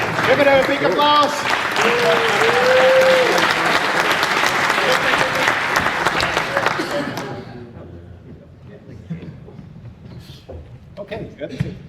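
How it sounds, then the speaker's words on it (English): Loud, sustained applause from a conference keynote audience, dense clapping filling the room for about seven seconds before fading to scattered claps and murmurs, with a voice heard over the start. "Give it a big applause."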